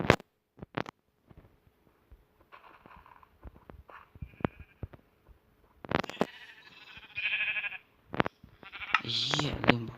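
Several sheep bleat in Minecraft, with short pixelated bleats alone and in quick pairs, moderately loud, interspersed with clicks and brief game sounds; no one talks.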